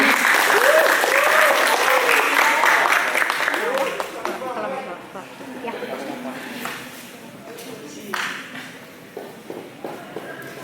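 Students applaud at an OSIS student council candidate debate at SMKN 5 Pangalengan, with loud, dense clapping for about four seconds that thins into scattered claps and murmuring voices.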